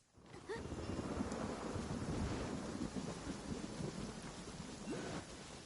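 Rain and a low rumble of thunder in a Genshin Impact thunderstorm, a faint, steady wash of rainfall that starts abruptly and continues evenly without any talk.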